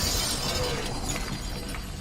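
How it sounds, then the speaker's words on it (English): Glass shattering as a baseball breaks through a window, played back through a soundbar: a dense, loud crash of breaking glass with scattering shards that stays steady across the whole two seconds. "you'd watch as a baseball broke through a window and shattered pieces of glass"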